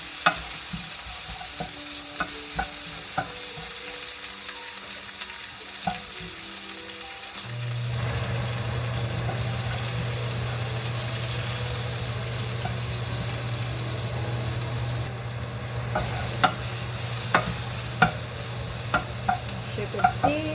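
Pork already boiled with soy sauce and vinegar drops into hot oil in a pan, a low steady sizzle swelling up partway through and holding, with scattered clicks and utensil taps on the pan.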